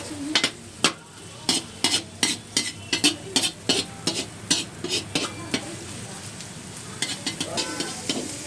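Capsicum and spring onion are stir-fried on high heat for egg fried rice, with a steady sizzle under quick, rhythmic spatula scrapes and clanks against the pan, close and fairly loud, with no talking.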